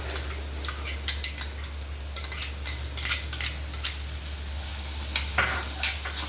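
Finely chopped onions cook in hot butter with cumin for a sweetcorn curry, a soft sizzle under intermittent sharp scrapes and clinks of a spoon against the pan, over a low steady hum, no voices.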